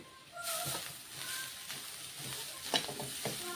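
Grated coconut roasting in ghee over a low flame, a soft steady sizzle with gentle intermittent scrapes of stirring, fairly quiet and close.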